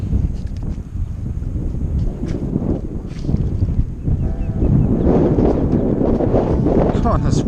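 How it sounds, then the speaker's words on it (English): Strong wind buffets the microphone on an ocean beach during metal detecting, a continuous roaring rush with a voice partly buried beneath it. "Come on, this wind."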